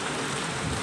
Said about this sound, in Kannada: ತುಂಬ ಜೋರು ಮಳೆ ಬರ್ತಾಯಿದೆ.